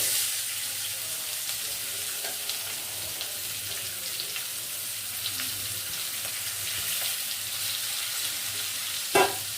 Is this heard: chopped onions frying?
yes